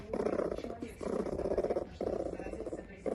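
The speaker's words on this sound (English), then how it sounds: "We're hearing a Marten purring." A marten purrs in a low rumble that comes in three or four steady bursts with brief pauses between them, close and fairly loud.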